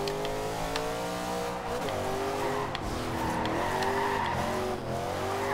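A 2015 Chevrolet Camaro Z/28 drifting in the Forza Horizon 2 racing game, with a steady, loud engine drone rising and falling alongside continuous tire squeal through several seconds of sliding.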